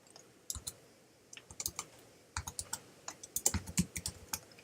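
Project name typed on a computer keyboard, a quick run of crisp close key clicks in short bursts, with no talk.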